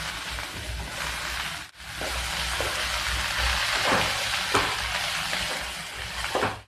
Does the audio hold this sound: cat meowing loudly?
no